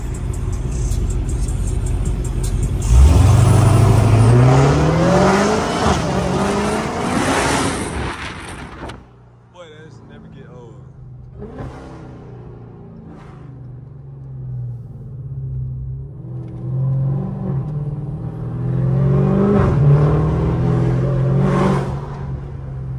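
A Dodge Hellcat V8 fitted with headers revs hard through rising gear pulls, then downshifts with sharp blips and burbles before building again, loud and close from inside the car, with no talk.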